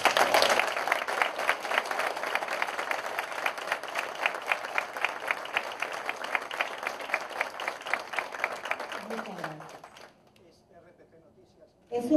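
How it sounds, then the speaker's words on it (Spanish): Sustained applause from an audience at an investment forum, dense and steady for about ten seconds before fading out into near silence. "quiero pedir un aplauso fuerte para mi país."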